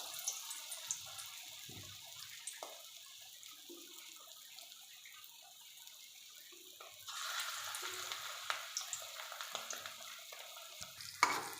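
Balls of khesari lentil paste drop into hot oil and fry with a quiet, fairly distant sizzle that swells louder partway through, with occasional soft knocks.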